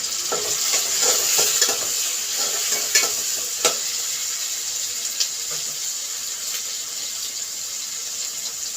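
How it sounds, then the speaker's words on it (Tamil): Steady frying sizzle of tomatoes with salt in a pan, continuous and fairly loud, with a few clinks and stirring knocks scattered throughout. "தக்காளி வதங்க கொஞ்சம் உப்பு போட்டுருக்கேன்"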